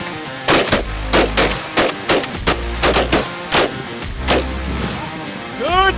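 Shotgun fire rings out during a Canadian duck hunt: a rapid series of about a dozen loud, close blasts in irregular clusters, ending with a bird call.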